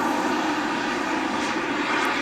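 A Flyfly Hobbies Viper 2.2 RC turbine jet with a KingTech 120 engine flies past, a loud continuous turbine roar and whine holding steady throughout, with no voices.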